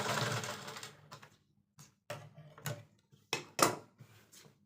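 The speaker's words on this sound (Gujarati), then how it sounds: "લોક પહેલાં આપણે અહીંયા ઘડી ટોપ સિલાઈ કરી દઈશું" A sewing machine top stitching old sofa cover fabric runs in short bursts, a steady buzz at first, then stop-start runs of rapid needle clatter with brief pauses between them, close and loud, with no talking.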